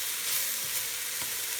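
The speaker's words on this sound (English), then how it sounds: "you are going to add in your ½ cup of semolina flour, and you're going to stir that in" Semolina flour being stirred into vegetables frying with curry powder in a pan, a steady close sizzle with faint scraping of the stirring, no voices.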